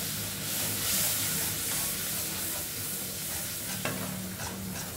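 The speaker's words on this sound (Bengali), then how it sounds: "এবার এখানে মা দইটা এই মশলার মধ্যে দিয়ে দিচ্ছে।" Yogurt stirred by hand into a mustard and poppy seed spice paste with green chili and salt, a steady wet scraping and swishing close by with one sharper knock of the utensil, no talking.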